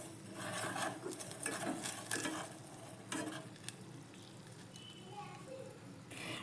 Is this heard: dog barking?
no